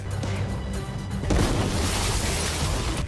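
A house explodes in a film as a deep rumbling boom with crashing debris, loud and sustained over a low background.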